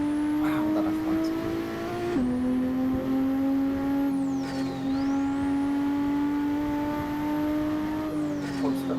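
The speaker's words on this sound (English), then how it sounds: "I think the fastest flyby I've had has been from the McLaren." McLaren F1 GT racing car in a driving video game, its engine holding a steady loud high drone with gear-change dips and a pitch-swooping pass, while players talk over it throughout.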